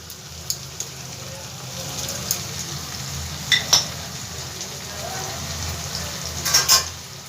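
Onions half-fried in a pan as ginger-garlic paste goes in, a steady soft sizzle with a few small clinks and pops, including a brighter cluster near the end.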